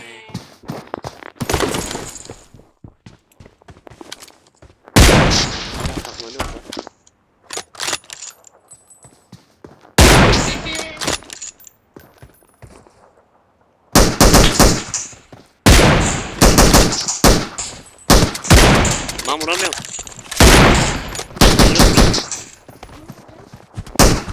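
Bursts of semi-automatic gunfire from a video game crack out in loud clusters of rapid shots, separated by short quiet gaps, with a denser volley of repeated fire in the second half.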